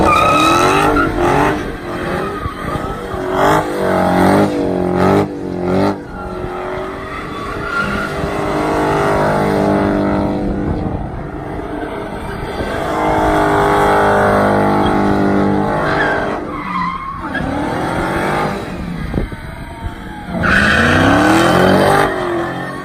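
A Dodge Hellcat sports car roars through repeated high revs while drifting, its engine rising and falling in long loud pulls with tyre squeal and skidding between bursts, close and continuous.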